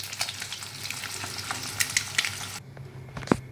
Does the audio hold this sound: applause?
no